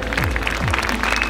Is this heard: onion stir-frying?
no